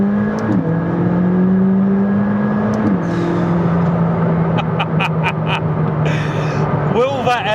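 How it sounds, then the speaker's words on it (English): A McLaren 600LT on the road gives a loud engine drone that shifts pitch with throttle changes, then a run of sharp, crackling exhaust pops near the end, with a voice talking over it. "Oh, that exhaust is popping away nicely."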